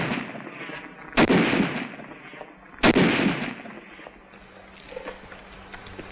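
A WWII-era Tommy gun fires in two sharp, loud bursts about two seconds apart, each cracking out over a rumbling outdoor background of other gunfire and noise, with no talk.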